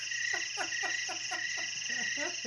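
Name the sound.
crickets chirping sound effect, played to end the show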